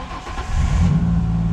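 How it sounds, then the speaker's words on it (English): A Ford Ranger's engine cranks and catches, settling into a steady mid-pitched idle hum that grows louder after the first half second, close by with no talk. "Let's go ahead, put our battery back in and start the car."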